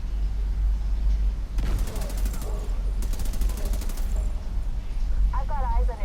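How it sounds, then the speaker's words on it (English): Rifle gunfire in the video game The Division 2: two bursts of rapid automatic shots over continuous combat noise and low rumble, with a brief radio-like voice near the end. "take the one on the left hand side with the rifle"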